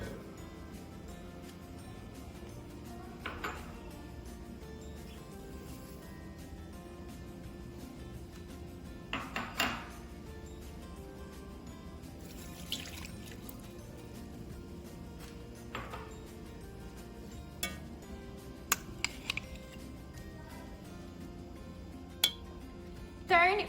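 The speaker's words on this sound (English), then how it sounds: "1 spoon of butter, 4 spoons of chocolate powder. Put in a saucepan." Pots, pans and cutlery clink and knock in a home kitchen while chocolate frosting is made from butter and chocolate powder in a saucepan; scattered light metallic taps and scrapes, mostly faint, over a quiet background with no voices.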